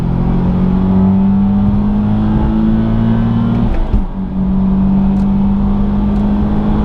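A car accelerates hard on a busy highway after a downshift into third, its engine droning loud and steady with a rising pitch, dipping briefly as it shifts and then pulling strongly again.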